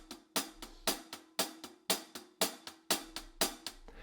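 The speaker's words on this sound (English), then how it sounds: "This is how a closed hi-hat sounds." Closed hi-hat struck in a steady rhythm, about fourteen short, crisp, dry ticks played alone and close, each cut off quickly.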